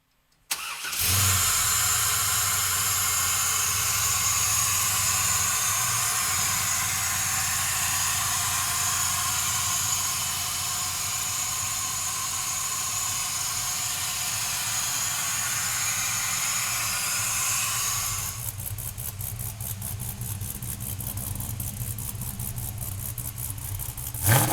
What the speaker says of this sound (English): let's fire this LS3 up.